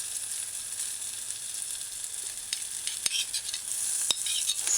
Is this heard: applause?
no